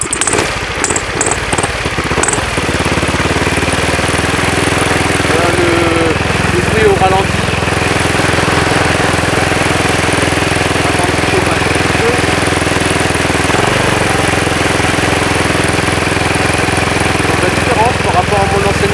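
A small petrol engine on a model aircraft fitted with a four-bladed propeller starts with a few sputters, then runs loud and steady at a constant idle, close up.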